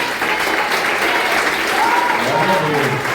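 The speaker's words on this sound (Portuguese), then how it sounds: "Agora mais uma vez aplauda Jesus Cristo." A church congregation at a Lord's Supper service applauds, a loud, sustained wall of clapping from many hands, with faint voices rising underneath toward the end.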